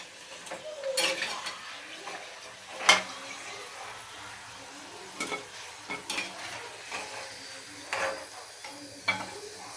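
Fried singaras, North Kolkata style, lifted one by one from hot oil, with soft bubbling sizzle under a series of light clinks and scrapes of a slotted spoon against the pan, one louder knock midway.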